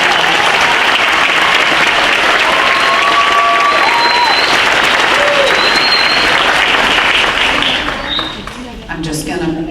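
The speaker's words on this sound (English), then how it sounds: "Let's give one more round of applause for our" Loud, sustained applause from a crowd for nursing graduates at a 2017 pinning ceremony, filling the space with dense clapping before tapering off toward the end.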